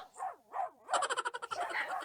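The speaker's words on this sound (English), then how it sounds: "You hear the dogs?" Several dogs barking in the Philippines, a few separate yaps followed by a quick run of overlapping barks, fairly close and loud with no talking.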